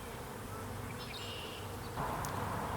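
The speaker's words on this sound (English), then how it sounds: "A bunch of nurse bees are surrounding her, almost covering her." A honeybee colony hums with nurse bees crowding around their queen, a steady close drone with a brief brighter burst near the end and no speech.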